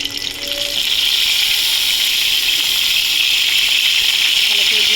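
Pointed gourd (potol) frying in hot mustard oil over a high gas flame, giving a loud, steady sizzle that holds evenly throughout.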